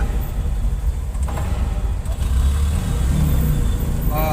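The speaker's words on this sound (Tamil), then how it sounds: "நார்மலான ஒரு டிராஃபிக் தான் இது" Road traffic waits and moves at a signal near the Anna flyover on Mount Road, with engines idling and revving close by and a steady rumble that swells in the second half.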